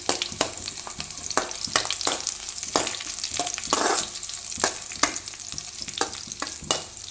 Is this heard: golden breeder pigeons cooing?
no